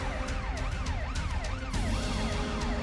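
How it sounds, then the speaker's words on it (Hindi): An ambulance siren travelling in a security convoy wails continuously in smooth rising and falling sweeps, loud and close, over steady road noise. "एम्बुलेंस में बैठा के मुख्तार अंसारी को लखनऊ ले जाया जा रहा है"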